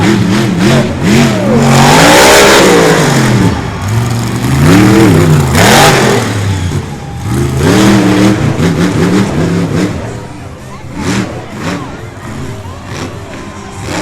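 An off-road truck engine at an outlaw off-road racing event in Miami, Oklahoma revs hard and loud in repeated rising and falling bursts, with a sharp pop and then rougher, fading engine noise. Crowd and commentary sounds blend in faintly.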